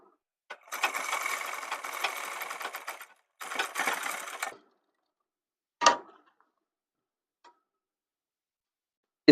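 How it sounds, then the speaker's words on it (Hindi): A sewing machine stitches denim jeans trousers in two steady whirring runs of rapid needle strokes, a few seconds each, followed by isolated short mechanical clicks in an otherwise quiet room. "और यहाँ पर हम सिलाई लगाएंगे।"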